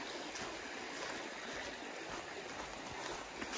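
A waterfall and stream along a hiking trail make a continuous, even rush of flowing water, fairly soft and unbroken, with faint splashing texture throughout and no voices.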